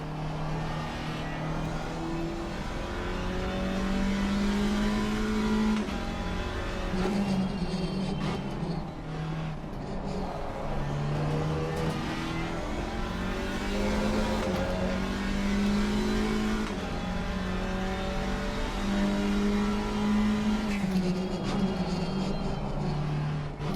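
GT4 race car engine in Gran Turismo, a continuous high revving drone rising and falling through gears as the throttle opens and lifts, steady and close with no talk.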